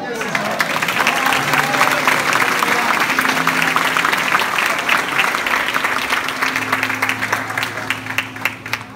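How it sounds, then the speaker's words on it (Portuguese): An audience at a church gathering applauds in dense, sustained clapping that runs the full length, with faint music tones underneath. "Dá um aplauso aqui."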